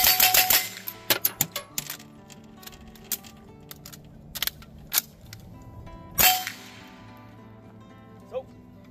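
Century Arms AP5-P pistol firing 115 grain Monarch ammunition: a fast string of sharp shots for the first second, then single cracks spaced through the clip, with metallic clinks of brass between them.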